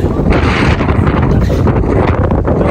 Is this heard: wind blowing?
yes